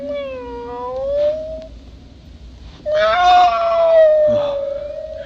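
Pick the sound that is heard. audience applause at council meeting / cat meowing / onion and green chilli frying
cat meowing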